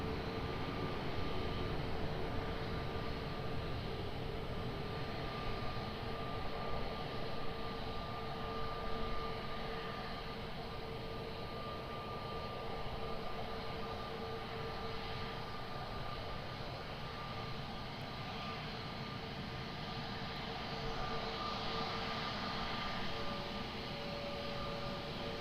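Aircraft taking off from runway 20 at Lisbon Airport, a faint, distant, steady engine rumble with a thin hum, continuing unchanged for the whole stretch.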